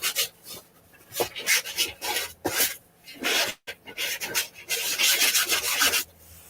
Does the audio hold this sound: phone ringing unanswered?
no